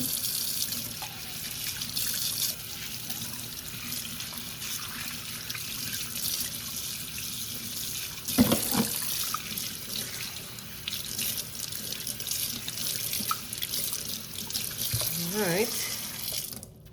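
Running tap water splashes steadily into a sink while fish are rinsed with apple cider vinegar, a continuous close wash of water with brief handling splashes partway through.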